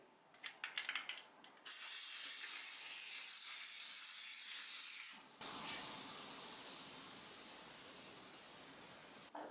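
Paint sizzling on a chimney breast: a loud, steady hiss fills the clip after a few brief crackles, continuing evenly with one short break before resuming.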